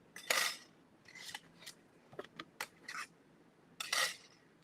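Scissors snip and trim a sheet of gold foil in a quiet room, a series of short, bright, crisp cuts and rustles at irregular intervals, close and fairly faint.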